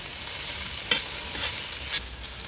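Okra is stirred with salt in a pan, with three distinct scraping strokes over a soft, steady sizzle, close up and with no talking.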